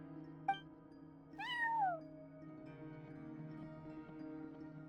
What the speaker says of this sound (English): cat watching over the front desk